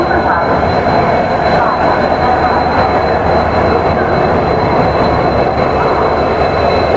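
A train rumbles steadily and loudly at Bathinda Junction station, a continuous close rolling roar with a faint high tonal whine on top and no break throughout.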